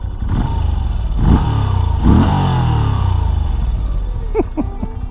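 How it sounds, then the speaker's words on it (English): A 2023 Moto Guzzi V7 Stone air-cooled V-twin motorcycle engine runs loudly nearby with a lumpy idle and a couple of throttle blips that swell and fall back. "let's get a sound check on the V7 Stone and watch this bike lurch towards me"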